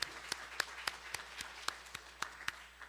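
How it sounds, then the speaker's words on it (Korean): Scattered, spaced hand claps from a church congregation during a Sunday worship service, about a dozen sharp, fairly quiet claps at an irregular, loose rhythm with no voices. "우리 하나님 앞에 영광의 박수 올려드리겠습니다."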